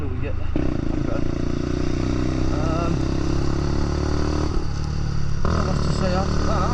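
A Lexmoto LXR 125 motorcycle ridden in the rain, a constant loud engine drone with wind and road noise, the rider talking over it throughout.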